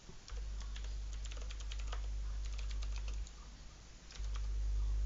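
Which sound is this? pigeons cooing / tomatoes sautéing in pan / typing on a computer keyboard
typing on a computer keyboard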